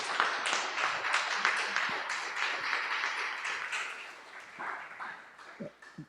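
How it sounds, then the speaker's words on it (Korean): Church congregation clapping together, a full crackle of many hands that gradually thins and fades toward the end, with a few scattered sharp taps and faint voices underneath. "우리 박수로 하나님께 경배 먼저 할게요."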